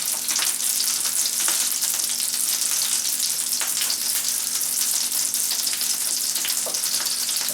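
Melted butter sizzling in a pan before pancake batter goes in: a bright, steady, close sizzle with scattered small pops, continuous and alone.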